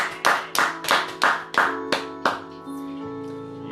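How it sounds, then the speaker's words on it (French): A church congregation claps in loud rhythmic beats, about eight sharp claps at a steady pace that thin into scattered hand taps and a lingering sustained tone at the end. "Est-ce qu'on peut acclamer pour la gloire de Dieu?"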